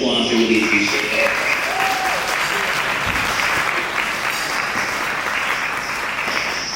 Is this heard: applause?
yes